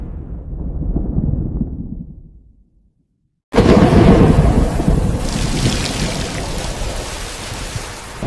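A thunderstorm with rain: a deep rumbling roll fades to near silence, then a sudden loud crack of thunder breaks into steady heavy rainfall with lingering rumble.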